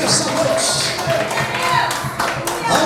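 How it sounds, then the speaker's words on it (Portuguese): A congregation claps together inside a Pentecostal church, the loud, busy applause running continuously alongside voices. "Desocupe as vossas mãos, aplauda ele bem forte"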